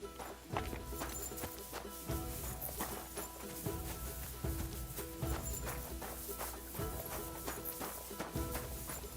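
Horse hooves clip-clopping in the video game Kingdom Come Deliverance II, a regular series of distinct hoof strikes at a walking pace, moderately close over a faint background.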